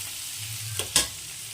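Potatoes and pointed gourd fry in hot oil with a soft continuous sizzle, broken by two close scraping clinks as a spatula stirs them in the pan; no talking.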